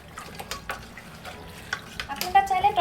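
Yogurt marinade being worked together by hand in a bowl, a soft wet squelching and stirring with light clinks of a dish, fairly quiet and close, getting busier and louder toward the end; no one talks.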